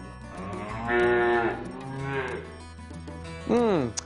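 Cattle moo loudly several times in a field where forage harvesters are cutting, with long drawn-out lowing calls followed by a short rising bellow near the end.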